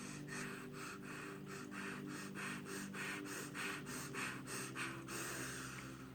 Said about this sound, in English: I suggest that everybody gets real with the breath of fire.